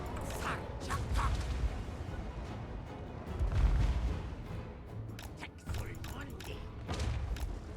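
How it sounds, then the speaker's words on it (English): Artillery booms and thuds ring out on a Total War battlefield, scattered through the clip, while someone talks over them throughout. "See if we can dodge some of these cannons."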